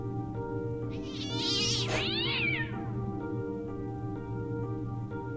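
A cat in the video game Fran Bow gives one drawn-out, wavering meow over a steady droning game soundtrack, the cry rising and falling for about a second before it fades.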